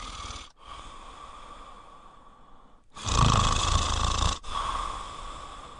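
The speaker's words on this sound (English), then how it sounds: "Bobo snores all night." Snoring in a children's audiobook story: a long, steady rasping breath, then a louder, harsher snore near the middle that cuts off abruptly and eases back into softer breathing, with no talk.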